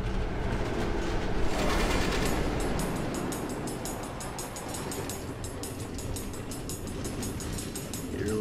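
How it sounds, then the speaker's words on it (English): A train running on automated tracks through the Nether in Minecraft: Story Mode, a steady rumbling roll with rhythmic clicking and clattering, continuous and fairly close. "Automated train tracks running all through the Nether?"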